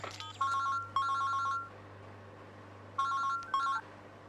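An electronic telephone rings in two paired bursts separated by a pause, over a low steady hum.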